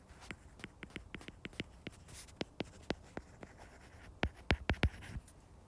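Pen or marker writing a geometry angle equation, a faint series of sharp, irregular ticks and scratches from strokes, with no talking.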